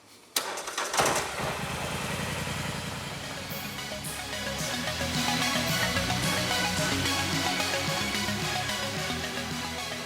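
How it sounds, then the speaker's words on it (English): A Polaris Sportsman 850 ATV engine cranks and catches near the start, then settles into a steady, fairly loud idle that runs on alone for the rest of the clip. "I'm going to go ahead and start her up, let it idle for a while"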